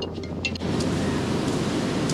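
Sea waves breaking at Kalacha Beach in Goa, washing against rocks beside a hill near beach shops, a steady close wash of surf with wind noise and no talk.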